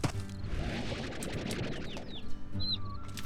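Chickens clucking in the Slime Rancher game, a dense busy flock chatter with flapping and a few short high chirps over a steady game background, no talk.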